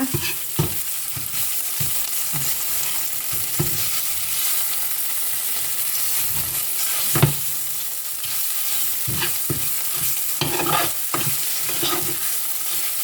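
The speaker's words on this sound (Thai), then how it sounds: "อืมเอาแซ่บๆเลยนะผัดให้หอมเลยนะคะ" Spicy frog being stir-fried in a pan with curry chili paste, with a steady close sizzle and repeated scraping and clattering of a spatula stirring throughout, no talking.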